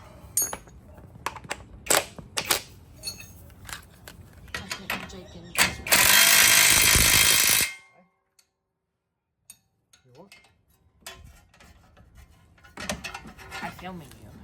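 Rattle bar ratcheting on the strut top bolt of a VE Commodore, with quick bursts of clicking near and loud, a sustained harsh noise in the middle, then a brief silence and more scattered clicks.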